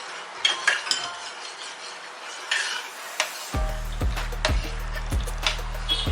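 A utensil scrapes and clinks against a pot as pudding mixture is stirred into milk, with soft irregular knocks. Partway through, a low rhythmic hum joins in beneath the stirring.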